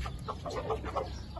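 A large rooster clucking in short, repeated bursts close by, with steady background noise and no speech.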